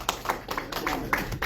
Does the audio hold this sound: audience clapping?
yes